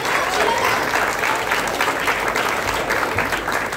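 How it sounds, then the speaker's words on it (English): Applause at a school inter-house quiz competition for the third-place house, loud sustained clapping from a large audience of students, with some faint crowd voices mixed in. "Give them a big round of applause."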